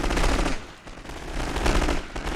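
Dense, rapid machine gun fire rattling continuously in a World War One siege battle in The Great War: Total War, loud, layered bursts with no pauses.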